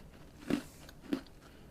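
Two crisp bites crunch through crumbly homemade butter and cocoa cookie scraps, close up and evenly spaced in a quiet room with no talking.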